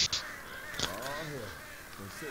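Crows caw in the Left 4 Dead 2 game, a few harsh raspy calls at moderate distance mixed with game ambience, while people talk over them.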